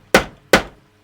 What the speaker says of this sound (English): You sometimes just got to give it a bit of the hammer